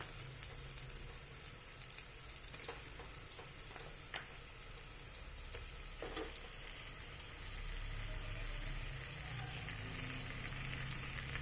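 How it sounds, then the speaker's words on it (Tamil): Onions, curry leaves and ginger-garlic paste sauté in a hot pan, giving a steady close sizzle and frying crackle with occasional stirring scrapes, no talk. "ஸோ இதையும் நல்லா சாட்டே பண்ணிவிட்டு இப்போ இஞ்சி பூண்டு பேஸ்ட்டும் ஆட் பண்ண போகிறோம்."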